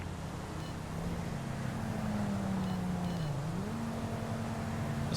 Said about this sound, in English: Just had a car pass me in my own lane.